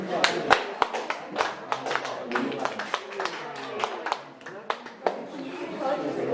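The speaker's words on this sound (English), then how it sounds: "today's second speaker, Michelle Wong, with a big round of applause." An audience claps to welcome the second speaker at a talk, with scattered, uneven claps from several people rather than a dense roar, heard along with voices in the room.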